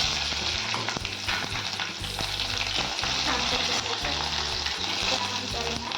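Cumin, curry leaves and chilies crackle in hot oil for a tempering, a loud, dense, continuous sizzle and spatter close up, alone without speech.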